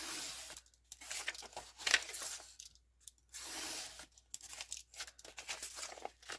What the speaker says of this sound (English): Now see, I cut through 2 pages.